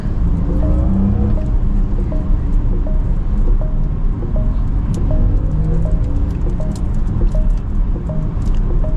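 Cabin noise inside an electric Porsche Macan Turbo under acceleration, a loud constant rumble of road and wind with a faint rising whine repeating through it.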